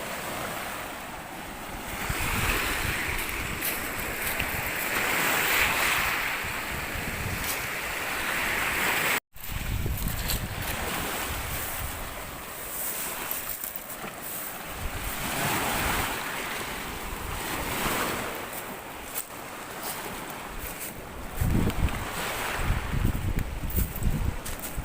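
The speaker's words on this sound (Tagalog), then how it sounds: "Sobrang lalaki talaga ng mga alon dito sa kabila." Large ocean waves surge and crash in a steady roar by a rocky shore at sea, mixed with wind buffeting the microphone, continuous and fairly loud throughout with a brief dropout midway.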